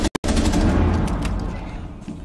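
G36 rifle fire in Rainbow Six Siege, a loud near burst opening with two sharp cracks, then a dense, steady stream of automatic fire that slowly fades with a few trailing shots.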